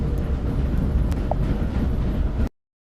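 A ghost train monster in a video game rumbles steadily with a loud, continuous low roar for a few seconds, a faint high ping sounding partway through, before cutting off abruptly.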